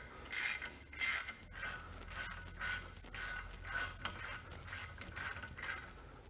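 Ratchet snugging the rear brake caliper bolts on a Ford Transit-250 van, about nine steady back-and-forth clicking strokes, close and fairly quiet with no talking.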